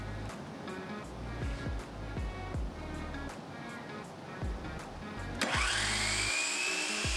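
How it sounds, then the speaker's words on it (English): A power saw cutting dado slots in wood for a woodworking project, using its trenching feature: a steady low motor drone with rhythmic pulses, then a loud rising whine as the blade spins up and bites in. "I'm going to be using my trenching feature on my saw to make these cuts."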